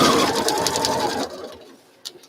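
A sewing machine stitching fabric runs steadily and loudly for just over a second, then stops, leaving a brief quiet with a short faint click near the end.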